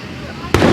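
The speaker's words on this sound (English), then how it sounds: "We got fireworks over here and fireworks over there." Fireworks going off, a sudden loud broadband blast that starts abruptly about two-thirds through and rumbles on after quiet background noise.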